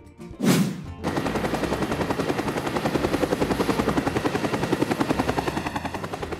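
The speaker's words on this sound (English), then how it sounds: "Air ambulance." An air ambulance helicopter with its rotor thumping in a fast, steady beat, loud and close, following a brief louder burst at the start.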